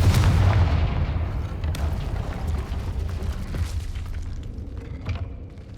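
A Confringo blasting spell goes off in Hogwarts Legacy with a heavy booming explosion at the start, followed by a long rumbling, crackling tail that slowly fades.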